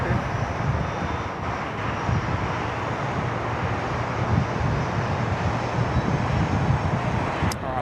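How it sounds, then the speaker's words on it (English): A Hong Kong Air Cargo Airbus A330 taking off from Sydney Airport, a steady loud jet engine roar with broadband rumble and some wind buffeting on the microphone, sustained throughout with no voices. "Let's manoeuvre ourselves down for the Hong Kong Air Cargo A330 departure, the Mascot 702."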